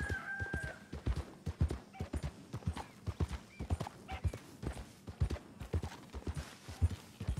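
Horse hooves clip-clopping in a steady rhythm while riding in the video game Red Dead Redemption 2, close and fairly loud, with a brief whinny-like tone near the start.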